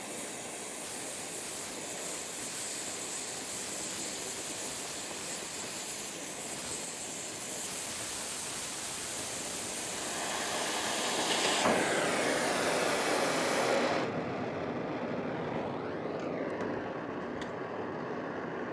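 A cutting torch flame with a copper tip heats half-inch steel plate, a steady roaring hiss that swells louder near the end, then cuts off abruptly and leaves faint clinks.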